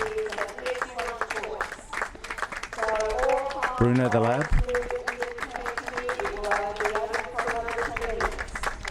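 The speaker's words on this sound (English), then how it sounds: "The crowd's all clapping, giving Reggie a big clap." Steady applause from a crowd at an LKA championship dog show, sustained clapping throughout, with an announcer speaking over it.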